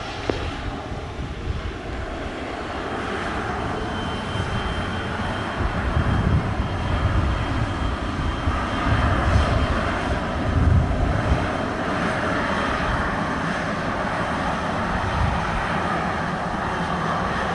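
An airliner at Montego Bay airport in Jamaica gives a steady, broad jet roar that swells slightly in the middle and holds loud throughout, with a light rush of wind over the microphone.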